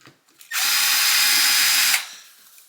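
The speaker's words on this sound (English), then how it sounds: "grab your 3mm and put these upper screws back in" A power driver whirs in one steady burst of about a second and a half, driving a 3mm upper screw into the axle of an Axial SCX6 RC truck, loud and close.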